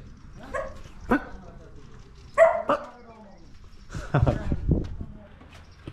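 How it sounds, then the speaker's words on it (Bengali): A dog on a farm in Romania during Eid al-Adha gives a few short barks and yips at mid distance, mixed with people talking nearby. "ওই যে একটা কুকুর।"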